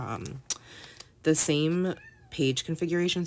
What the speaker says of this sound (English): you can hear my kitten meowing at me because he wants me to snuggle him